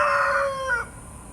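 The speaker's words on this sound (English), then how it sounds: "There's a rooster over there, if you hadn't noticed." A rooster crows once outdoors, a single drawn-out, moderately loud call that rises and then trails off, followed by quiet background.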